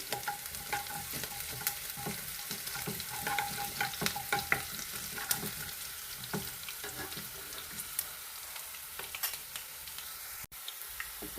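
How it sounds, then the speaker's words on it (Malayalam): Onion, garlic, green chili and ginger frying in a pan for lemon pickle, a steady soft sizzle with scattered scraping stirs and utensil clicks, close and fairly quiet. "ഇനി ഉള്ളിയും വെളുത്തുള്ളിയും പച്ചമുളകും ഇഞ്ചിയൊക്കെ ഒന്ന് വാടി വരട്ടെ"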